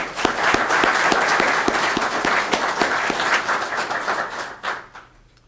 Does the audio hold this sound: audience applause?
yes